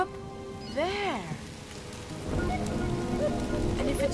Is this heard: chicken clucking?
no